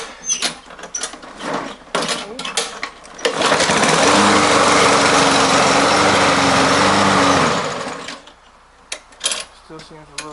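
A self-propelled lawn mower with a newly replaced belt starts up and runs with a loud, steady engine drone for several seconds, then cuts off, with people talking before and after.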